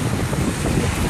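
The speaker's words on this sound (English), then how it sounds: "It's always windy here." Steady, blustery wind buffets the microphone with a low rumbling roar on a Lanzarote beach, and faint surf washes underneath. No one speaks.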